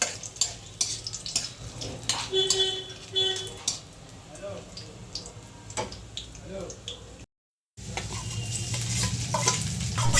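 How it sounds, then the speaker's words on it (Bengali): Chopped cashews fry in a pan with a light sizzle and intermittent stirring clinks, close by. Speech is heard at times, and there is a brief moment of silence near the end. "কিছু কুচানো কাজু এবার আমি এইগুলো ভালোভাবে ভেজে নেব"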